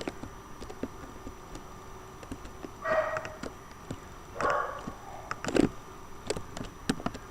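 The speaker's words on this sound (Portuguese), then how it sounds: "Cala a boca, cachorro desse inferno." A dog barks several times in short bursts, fairly close, over a quiet background with light tapping and clicks during Minecraft gameplay.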